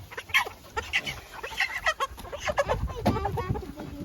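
Several chickens from a flock of meat birds cluck and squawk close by on a farm at processing time, with overlapping calls in irregular bursts throughout and low background rustling.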